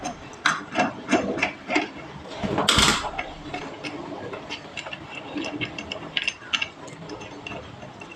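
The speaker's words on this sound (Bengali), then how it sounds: "3 ইঞ্চ দিয়ে প্রথমে আমি হালকা করে ঢিল করে নিলাম, তারপরে এগুলোকে হাত দিয়ে খুলে নেব।" Four 13 mm nuts being loosened with a wrench on a Havells geyser, a series of close metallic clicks, scrapes and taps with one louder clatter, irregular and without speech.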